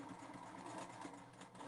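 A sewing machine running a short back stitch at the start of a seam on a scalloped fabric basket, a steady close mechanical whir with quick rhythmic needle strokes and no talk.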